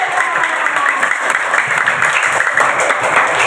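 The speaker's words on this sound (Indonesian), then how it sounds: "kita beri aplaus untuk Pak Nandi." Applause from a classroom of students fills the whole stretch, a steady dense patter of many hands clapping at close range with no pause.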